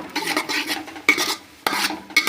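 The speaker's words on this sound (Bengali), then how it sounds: "এখন একসঙ্গে মশলার সাথে ভালো করে কষিয়ে নিব," Raw tomato frying with spices in a pan, stirred with a spatula in rhythmic scraping strokes, with sharp metallic knocks against the pan and a low sizzle between them.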